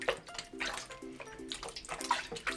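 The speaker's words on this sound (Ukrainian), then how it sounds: "Рукою саме краще промивати масло." Water sloshing and splashing as homemade butter is kneaded and rinsed by hand in a bowl of water, with steady wet squelches and drips close by.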